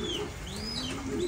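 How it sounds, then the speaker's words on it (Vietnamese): An American Giant squab pigeon on a farm gives a soft, low cooing call, faint and close, with a thin chirp behind it and a steady background hiss. "Đây là bồ câu ra ràng, bồ câu gà Mỹ nha."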